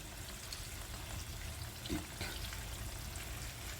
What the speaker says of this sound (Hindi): अब इसमें मैं एक प्याली के करीब गर्म पानी डालूँगी।